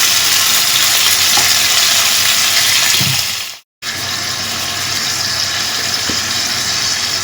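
More oil goes into a pan of sliced pork already frying, keeping up a loud, close, hissing sizzle that cuts out for a moment midway, then returns just as steady, with a few faint clinks underneath.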